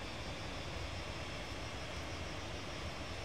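A VTOL jet's engine in a video game roars at full throttle, a dense, constant rushing whine with no breaks, loud and close.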